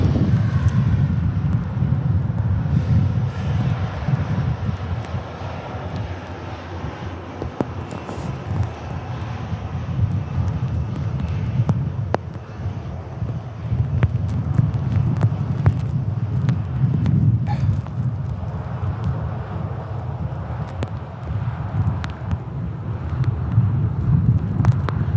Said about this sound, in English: Ryanair for Brussels just taxiing by